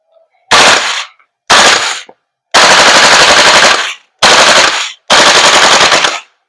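A VFC Knight's Armament KS-1 L403A1 airsoft gas blowback rifle fires full auto in five loud, rapid bursts of varying length, separated by short silences.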